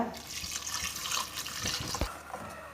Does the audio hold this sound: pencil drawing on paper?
no